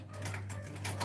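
A sewing machine runs through a couple of stitches with a steady mechanical whir and faint rapid ticking, close by and alone.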